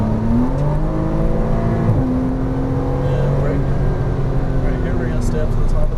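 A Porsche Cayman R engine pulls hard on a race track, a loud, steady close-up drone whose pitch dips briefly, then holds and climbs again.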